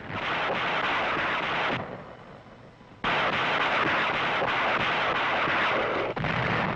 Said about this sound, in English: Self-propelled artillery increased the weight of our firepower.